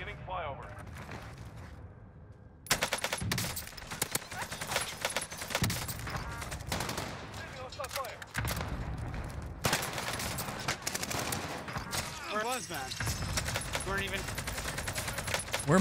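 AK-47 fire in Warzone on Rebirth Island: dense, loud automatic bursts start after a quiet opening and repeat in rapid volleys through the rest, with a player's voice talking over the shooting.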